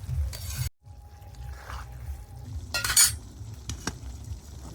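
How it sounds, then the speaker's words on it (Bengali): Cornflour slurry being stirred into chilli chicken in a pan, with a metal utensil clinking and scraping close up, a few sharp knocks against the pan over a soft background. "এবার কর্নফ্লাওয়ারটা দিয়ে দিচ্ছি।"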